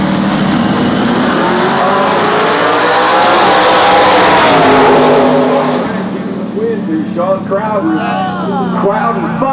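A 275 drag race car makes a record pass at the I-57 Dragstrip, its engine roaring loud and sweeping upward before fading, while an announcer talks over the end.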